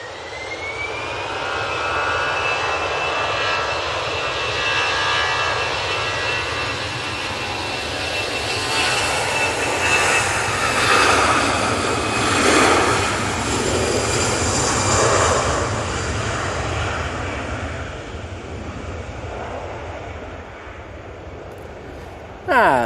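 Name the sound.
Easyjet Airbus A320 taking off to Bilbao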